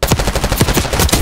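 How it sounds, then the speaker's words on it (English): Rapid automatic gunfire in the Call of Duty Black Ops 6 beta, Kill Order mode on the Scud map, with loud, dense shots rattling continuously through a short burst. "HVT under fire."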